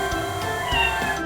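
A small kitten in a snowy setting gives a thin, drawn-out meow, faint and continuous over a soft background.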